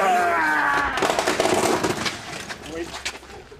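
A Bentley Flying Spur's low underbody scraping and cracking against a garage entrance, a loud burst of crunching and snapping that trails off into scattered rattles.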